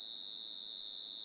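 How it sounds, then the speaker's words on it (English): A referee's whistle in an eFootball match blows for half-time, a sustained high pure tone held steadily and fairly faint across the whole moment with no talk. "And the whistle goes for half-time."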